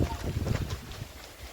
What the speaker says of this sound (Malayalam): അതേപോലെ ഭയങ്കര കാറ്റാട്ടോ